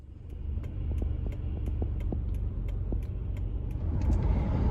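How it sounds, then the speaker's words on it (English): A car drives along a road, its steady low engine and tire rumble loud and continuous with faint rattles on top, building slightly toward the end; no one speaks. "So I'm back in my car on my way home"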